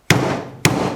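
Two sharp, loud metallic strikes of a hammer driving a screwdriver against a wheel bearing to knock it out, close up and spaced about half a second apart, each ringing briefly.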